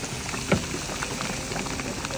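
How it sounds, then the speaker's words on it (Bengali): Tamarind dal boils in a pot: a steady, soft hiss of bubbling with small irregular pops, close and fairly quiet. "টবক টবর করে ফুটছে"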